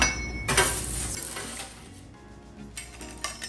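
Burnt tortilla chips being plated onto dishes, with a cluster of close clinks and clatters early on, then scattered lighter taps and a few brief chinks near the end, no talking.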